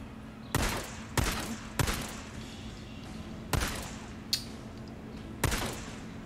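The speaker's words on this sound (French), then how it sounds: "la balle elle passe juste à côté de ta tête" Single gunshots ring out in the video game Days Gone, six sharp, loud cracks spaced about a second apart over a low steady hum, with no talking.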